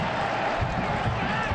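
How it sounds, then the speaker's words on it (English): Soccer stadium crowd at an FC Cincinnati versus Ottawa Fury match urging a player to shoot: a dense, steady roar of many voices shouting together, loud and continuous for the whole moment. "I think the crowd's asking him to shoot."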